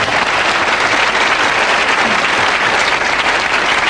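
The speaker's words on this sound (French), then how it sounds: "On applaudit." A television studio audience breaks into loud, sustained applause, a thick even wash of clapping that holds steady throughout.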